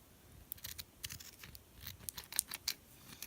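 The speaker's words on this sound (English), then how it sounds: "And then I'll cut off the ends." Scissors snip the ribbon ends off a small bow on a handmade Christmas tag: several quick, soft cuts with light paper and ribbon rustling between them, close but quiet.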